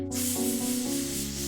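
A sustained voiced hissing S from a single person doing a breath exercise as a vocal warm-up, steady and close, with a faint hum beneath the continuous hiss.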